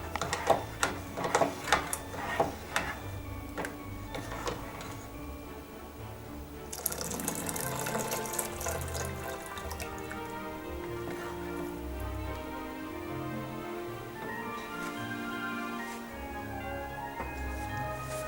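Hot chocolate, a creamy Mexican-style drink, is spilled from a ladle back into the pot, giving a soft continuous liquid splash and trickle, with a few sharp drips at the start before the pour settles into a steady flow.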